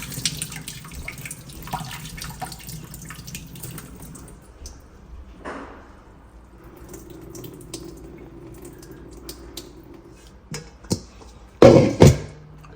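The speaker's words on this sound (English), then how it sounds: "to wash off the liver, to wash the liver and things" A tap runs while raw liver is rinsed, with water streaming and splashing early on, then quieter dripping and handling noises before a few louder sharp clatters near the end.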